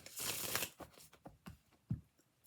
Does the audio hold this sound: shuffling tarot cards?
yes